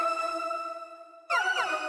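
A metallic FM synth lead plays in a pop production: a steady bright tone with ringing overtones is held for over a second, then gives way to a brighter, pitch-gliding, bell-like phrase. No voices.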